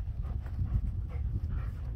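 A dog pants steadily and close by during a training session, quick rhythmic breaths running for about two seconds with no other sounds.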